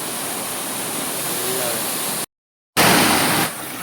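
Heavy rush of a rain-swollen village waterfall, a steady loud broadband roar close by, cut by a brief silent gap before resuming even louder, then easing slightly.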